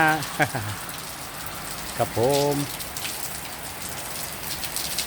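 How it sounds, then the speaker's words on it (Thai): Steady rain pours down in a rural outdoor setting, a dense constant hiss of drops on surfaces, with someone speaking briefly twice over it. "เพราะว่าฝนมันตกนะครับ"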